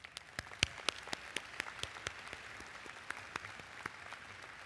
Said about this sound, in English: Let's take a moment to show our gratitude with a well-deserved round of applause.